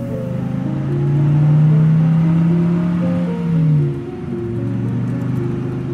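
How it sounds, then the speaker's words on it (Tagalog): A car engine runs steadily while driving, a low continuous hum that swells, rises briefly in pitch partway through, then settles back to an even drone, with no talking. "Agad na bumiyahe si Myla gamit ang sarili niyang sasakyan."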